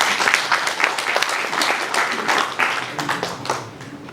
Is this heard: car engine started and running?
no